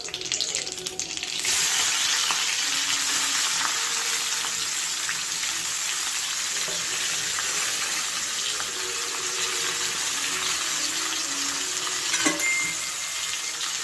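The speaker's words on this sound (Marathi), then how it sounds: "आता आपण वांगी भरली ना ते कढईत टाकू।" Stuffed brinjals frying in hot oil with cumin and mustard seeds in a kadai give a steady, loud broadband sizzle that starts sharply after a brief burst and holds evenly throughout, with a small spatter near the end.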